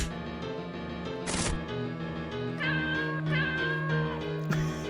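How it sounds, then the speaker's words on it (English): Cat meows and caterwauls triggered by the Dragon Eye item in the horror RPG LiEat, layered over steady game music, with a few distinct mewing calls rising clearly above the background tune. "It makes cat noises"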